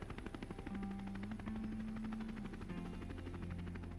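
A rescue helicopter for an injured snowmobiler thuds steadily with rapid rotor beats and a turbine whine, loud and continuous without letup.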